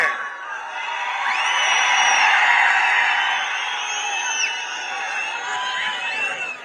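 Large, dense crowd at a bullock cart race, forming a continuous loud roar of many voices, with whistles and high shouts rising above it.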